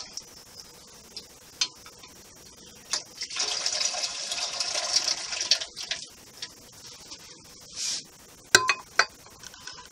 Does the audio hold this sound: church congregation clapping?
no